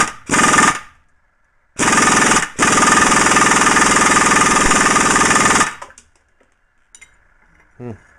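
An impact wrench hammers at the tight yoke nut on a Willys Jeep rear differential, one short burst then a long loud rattling run of several seconds, close up, ending in quiet.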